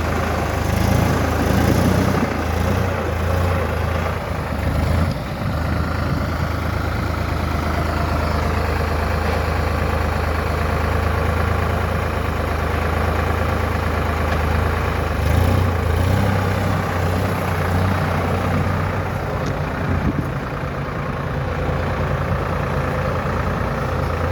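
A heavy tractor with a jaw loader runs continuously at a steady low rumble, loud and close, with no voices.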